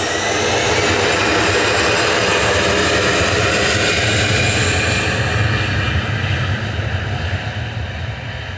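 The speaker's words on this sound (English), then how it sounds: "EasyJet 2179 to Amsterdam" An EasyJet airliner departs Manchester Airport on its takeoff roll, a loud, steady jet engine roar with a high whine on top that eases slightly toward the end; no talking.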